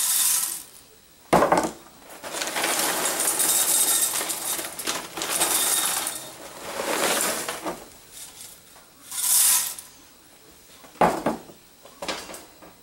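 Rice Chex cereal poured into a bowl, a dry rattling rush of small crisp pieces in several bursts and pours of varying length, close and fairly loud.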